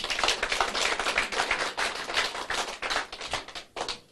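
Audience at a business seminar in Korea claps in a dense, steady burst of applause that tapers off near the end, with no talking.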